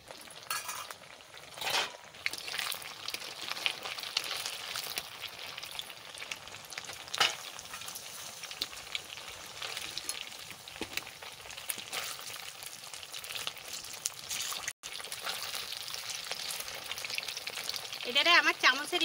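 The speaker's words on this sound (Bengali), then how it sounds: "অনেকগুলো ভাজা হয়ে গেছে" Semolina sweets sizzle and crackle as they fry in a pan, a steady spitting hiss with occasional spoon scrapes and clinks of utensils against the pan.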